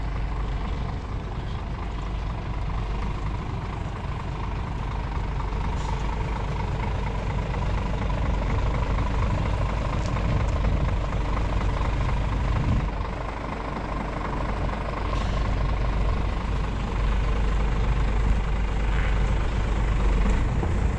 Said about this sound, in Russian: Сейчас у нас условно осуществляется подъезд под рампу задом.